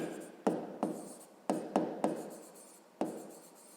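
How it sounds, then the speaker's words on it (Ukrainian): Handwritten numbers go down on paper as a series of short, quiet pen strokes, separate scratches spaced irregularly and close by. "Записуємо тоді 9, потім 7, а потім 5"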